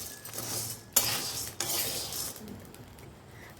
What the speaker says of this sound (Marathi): कढई थंडवली तोपर्यंत हलवतच राहायचं